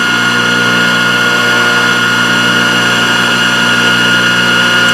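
A Thorvie AV-40 sharpening machine grinds a jointer knife with a loud, steady, continuous motor whine and grinding hum, close up and unbroken, with no speech.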